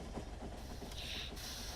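An acid train in the video game Factorio runs along its track, a steady hissing rail rumble with a brighter tone rising partway through, alone with no voices.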